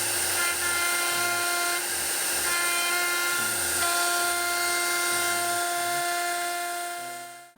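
A router with a 1 inch depth-of-cut bit, guided by a template, cuts a mass block pass-through route in a guitar body, a loud sustained high-pitched whine with a shifting load as the bit moves, close and continuous until it winds down at the end.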